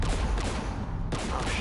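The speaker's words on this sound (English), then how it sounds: "We're taking fire." Sustained bursts of gunfire from a battle in the video game Mass Effect 3, dense rattling shots continuing without pause.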